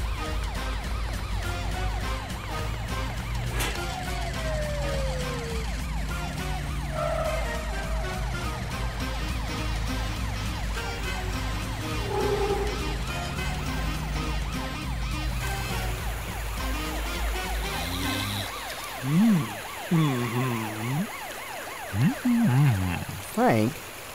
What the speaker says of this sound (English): I can't hear you for the sirens.